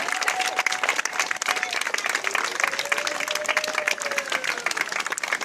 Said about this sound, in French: Applaudissements pendant au moins 1 minute